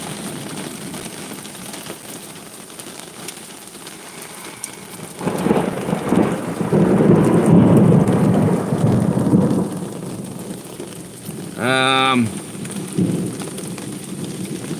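Steady heavy rain pours throughout, swelling midway with a deep rolling rumble of thunder, then a brief tonal burst near the end.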